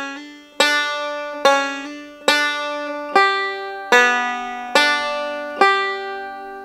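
A banjo plays a lick, a close, clean run of bright plucked notes with sharp attacks and short decays, heard alone.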